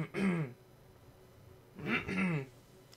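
Two close, throaty clearing bursts from a man, spaced more than a second apart, each a rough, strained rasp with quiet pause between.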